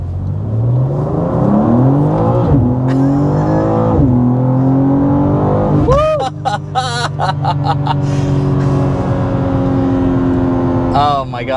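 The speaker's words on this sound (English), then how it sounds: "So let's go ahead and get the hard acceleration." A 453 hp 2024 BMW M2 sports coupe accelerates hard, its engine note climbing loudly through several gears with brief drops at each upshift, heard from inside the car.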